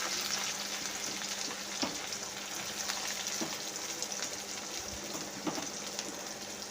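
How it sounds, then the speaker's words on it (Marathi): Finely chopped onion frying in hot oil with cumin seeds gives a steady, close hiss of sizzling, broken now and then by soft stirring scrapes, with no talking. "आता कांदा टाकूया कट केलेला एक वाटी बारीक कट करून घेतलेला आहे कांदा छान होऊ द्यायचा"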